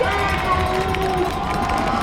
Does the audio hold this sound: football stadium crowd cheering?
yes